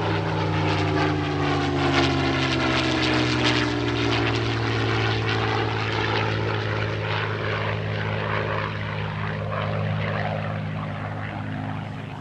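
A restored Spitfire warbird flies at an airshow, its piston engine droning steadily and loudly throughout, with smooth harmonic tones that shift slightly in pitch as the aircraft moves.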